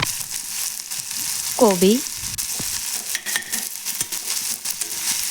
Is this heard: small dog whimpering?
no